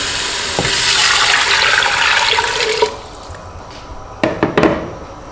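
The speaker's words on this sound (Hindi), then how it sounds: "तो फिर आप इसके अंदर पानी डाल दें।" Water pours steadily and loudly into a pot of browned ground beef for a ground beef soup, a rushing splash lasting nearly three seconds, followed by a few sharp clinks and knocks of utensils against the pot.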